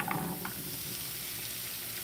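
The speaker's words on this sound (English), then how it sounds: "Oh, listen to that sizzle." Sausage, potatoes, peppers and onions sizzle quietly in a pan over low heat, a soft continuous hiss with a few small pops near the start.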